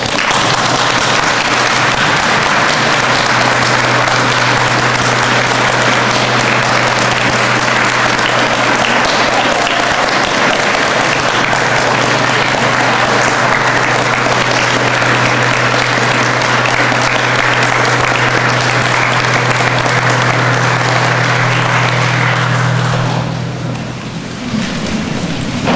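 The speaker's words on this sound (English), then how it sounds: "if we could have a round of applause for them and make some noise for this guy" A crowd at a memorial gathering applauds for about twenty-five seconds in a loud, dense, steady roar of clapping that fades near the end.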